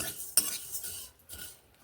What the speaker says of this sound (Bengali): এইভাবে এই মশলাগুলোকে আমি ভেজে নিচ্ছি আমার এখানে জিরে মৌরি আর মেথি রয়েছে